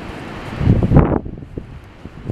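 Wind blows outdoors at a backyard playground, buffeting the microphone with a strong rumbling gust near the middle that eases into a softer, lingering rush.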